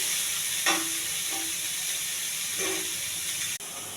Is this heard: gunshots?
no